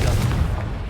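A Confringo fire spell bursting in Hogwarts Legacy during a fight with spiders: one short, loud, deep blast that rumbles and quickly fades.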